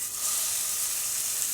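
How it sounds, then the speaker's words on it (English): A steady, bright sizzle of a beef burger patty frying in a hot pan, constant and close with no other sounds. "then we're gonna get this baby sizzling"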